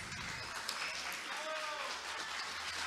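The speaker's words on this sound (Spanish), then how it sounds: "Fuerte, fuerte, fuerte los aplausos." Audience at a school quiz contest grand final applauds, a steady wash of clapping with a faint tonal voice or whistle through it, moderately distant and continuous.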